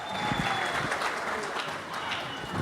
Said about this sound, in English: A round of applause to Harare Central Prison Choir.